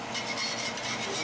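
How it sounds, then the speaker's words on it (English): Butter is whisked into a pan sauce for steaks, making a steady, close wet swishing and scraping that runs without pause. "Add the first one, whisk it in."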